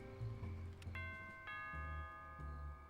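Doorbell chimes in The Simpsons Hit & Run, two bright ringing tones struck in succession and lingering over a low rumbling game background.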